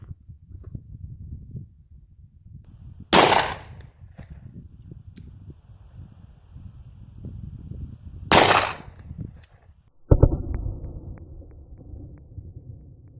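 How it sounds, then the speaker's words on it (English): Two sharp pistol shots crack at a tin can set up outdoors, several seconds apart, each loud and close against a faint background hum, followed by a duller thump near the end. "Try to hit it with my pistol without hitting my GoPros."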